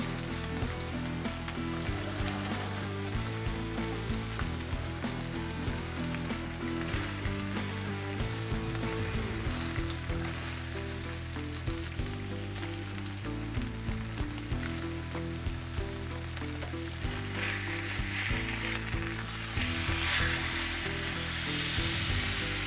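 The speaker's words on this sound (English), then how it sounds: "And I'm on high heat right now just so I can get that outer crust." Steak searing in a pan over high heat, a dense, steady sizzle and crackle that runs loud and unbroken throughout, with a music-like tonal bed underneath and no talking.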